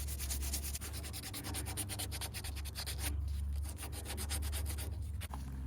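Steady scratchy sanding strokes smoothing wooden oars, a close, continuous rasping rub with a rhythmic pulse and a brief pause near the end, no voices.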